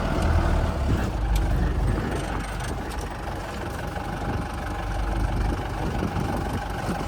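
A Mahindra jeep engine runs steadily near at hand, a continuous low rumble at a fairly even level with only slight swells in revs, no voices over it.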